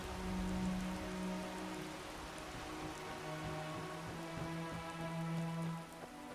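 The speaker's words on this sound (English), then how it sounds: "It's starting to rain." Steady rain from the video game Skyrim patters continuously across the whole stretch, with soft sustained musical tones beneath it and no talking.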